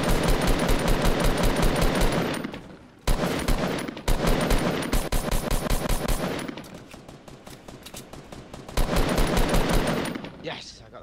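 Rapid automatic gunfire in the Fortnite video game, long loud bursts of close shots fired at a wall with brief pauses between volleys.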